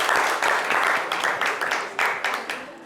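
An audience claps to encourage a hesitant young girl called up to join a live stage show, a steady patter of hands with rhythmic swells running throughout, moderately loud and fairly close, with no voices over it.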